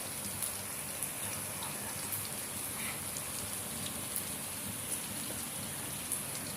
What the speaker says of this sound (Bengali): আজকে অনেক বেশি বৃষ্টি হইতেছে